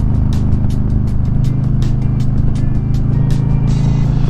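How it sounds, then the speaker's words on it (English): A 2022 Harley-Davidson Low Rider S accelerates hard under full throttle, its deep, steady engine rumble loud and close with rapid pulsing exhaust beats throughout. "When you grab a handful of throttle, it just gives you acceleration."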